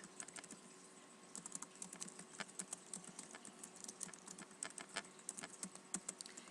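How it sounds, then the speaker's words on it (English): Fingers type data into Excel on a computer keyboard, producing quick, quiet, irregular clicking keystrokes in close, soft bursts with no voices. "Type all your data in for wind speed."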